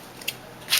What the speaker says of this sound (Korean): 그 다음에 이제 색종이를 어두운 색 계통을 이렇게 잘라서 전체적으로 다 막아줍니다.